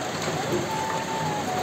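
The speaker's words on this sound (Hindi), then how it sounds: "पूरा बारिश सुबह से हो रही है" Steady rain that has been falling since morning makes a constant, even hiss nearby, with a faint tone drifting through in the background.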